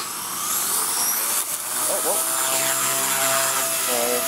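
Blade 130X RC helicopter hovering and coming down to land nearby, its high, whining rotor and motor buzz rising and falling in pitch as it maneuvers, with people talking over it.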